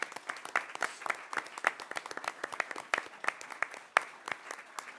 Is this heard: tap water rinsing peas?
no